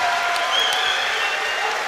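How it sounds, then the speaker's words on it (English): A crowd at a UK amateur boxing championship applauds after a bout, dense, even clapping that fills the whole two seconds at a steady level, with a faint hint of crowd noise underneath. "Just once again, a round of applause."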